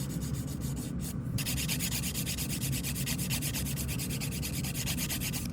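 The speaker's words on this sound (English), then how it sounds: "filing in both directions is absolutely okay" A nail file rasps steadily back and forth across fingernails in both directions, a close, soft, even scratching with a regular stroke rhythm and a brief pause near the start.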